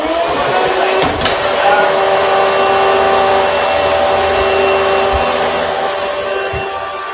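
A vacuum cleaner hose sucks air out of a trash bag with a loud, steady whine and rushing airflow, marked by a brief knock and a few low thumps as the bag shifts.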